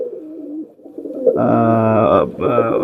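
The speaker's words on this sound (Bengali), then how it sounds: "ওনার কালেকশনের কবুতর" Teddy pigeons from a breeding pair coo in a close, steady, throaty series of rounded calls with a brief pause near the end, preceded by softer low murmuring and with no talk over them.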